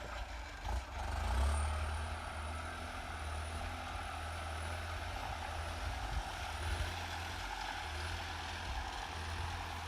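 Continuous low engine rumble of a Kubota M7040 turbo tractor plowing nearby, steady and loud, with a faint high turbo whine running over it.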